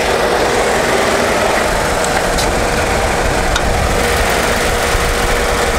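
A Honda N-Box kei car engine runs at a steady, close idle, its loud, constant drone unbroken by any talking.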